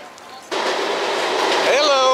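An elevated train rolls overhead in downtown Miami, a sudden broad rumble that starts loud and near and holds steady, with a rising whine near the end and a voice speaking under it.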